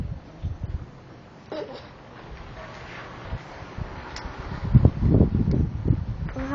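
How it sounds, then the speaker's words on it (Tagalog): Wind gusting outdoors, rumbling against the microphone in uneven buffets that swell louder toward the end, with rustling in the background. "Ang hangin, no? Nakakatuwa."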